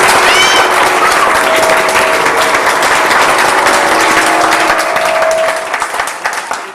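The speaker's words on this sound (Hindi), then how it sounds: "मैं चाहता हूँ उस मेरे भाई के लिए बहुत सारी तालियां हो जाए" A large television game show audience applauds loudly and continuously, a thick wash of clapping that thins out and fades toward the end.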